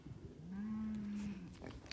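A cow on a farm gives a single drawn-out moo at middle distance, rising and holding steady before it fades. Faint rustling sits behind it.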